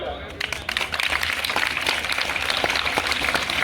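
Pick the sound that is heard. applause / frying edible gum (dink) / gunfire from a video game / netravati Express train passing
applause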